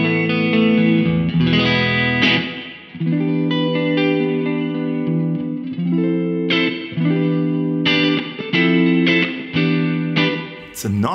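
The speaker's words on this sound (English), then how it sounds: "It's a nice sounding reverb." Guitar played through a Baby Audio Crystalline algorithmic plate reverb set fully wet: sustained chords and plucked notes bloom into long, washing tails that overlap and blur between strums.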